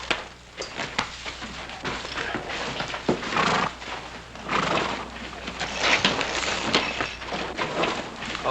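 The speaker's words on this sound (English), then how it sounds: "I'll take care of your horse." A horse whinnies and its hooves clip-clop in an Old West town, loud and continuous, with busy street noise around and no voices.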